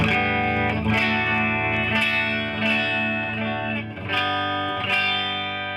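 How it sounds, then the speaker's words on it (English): An electric guitar played through the clean channel of a Mojotone British 45 Plexi DIY amp kit, with no boost, rings out in several strummed chords, each struck at a steady pace and left to sustain, loud and alone. "let me show you the clean channel now, so you have an idea of that"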